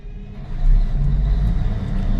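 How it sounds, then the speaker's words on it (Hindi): The engine of a Cat dumper truck starts up and settles into a steady, heavy low rumble, loud and close, with no voices over it. "तो चलिए अब मैं गाड़ी को स्टार्ट कर लेता हूँ।"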